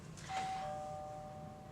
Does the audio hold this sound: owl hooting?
no